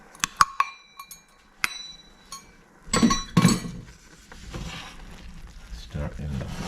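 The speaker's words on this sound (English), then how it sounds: "Stir in the flour." Flour is stirred into a pot of just-boiled water for cheese puffs, with sharp metallic clinks of a utensil against the pot followed by scraping, stirring sounds, while a person speaks faintly at times.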